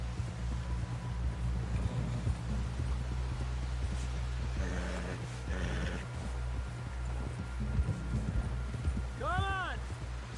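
Horse hooves clip-clopping at a steady gallop in Red Dead Redemption 2, a continuous rhythmic beat under a constant low rumble, with a brief neigh near the end.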